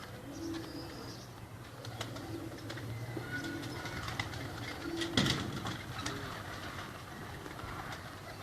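Kept loft pigeons coo in low, repeated throaty phrases at fairly close range, set against a steady background hum with faint distant rumbling and occasional louder knocks.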